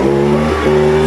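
A garden leaf blower idles close by, producing a loud, steady engine drone with a constant buzzing pitch.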